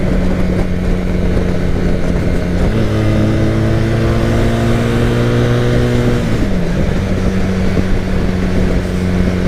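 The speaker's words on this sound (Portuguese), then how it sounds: "Olha que motor acertadinho." A 1982 Honda CB 400 motorcycle engine runs loud and close, idling steadily, then rising in pitch for a few seconds of revving before settling back to idle.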